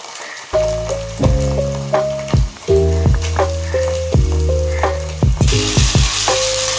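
Onions with ginger-garlic paste frying for a vegetable biryani, a loud steady sizzle broken by repeated scraping stir strokes and tonal clatter of utensil against pan, with no talking.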